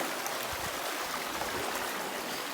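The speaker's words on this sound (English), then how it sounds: "This water is the holy water that's coming from the mountain." A mountain river flowing down from Mount Kenya rushes steadily and close by, a dense, even wash of water with no pauses.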